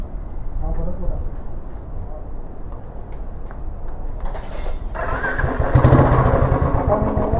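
Royal Enfield Classic 350 BS4 motorcycle idling with an aftermarket exhaust fitted with a dB killer, a steady low rumble that grows louder and fuller near the end, with some background talk.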